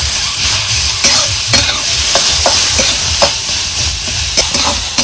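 Chicken curry ingredients with tomato and salt roast in a kadhai, a steady close sizzle with repeated stirring scrapes spread through it and no voices.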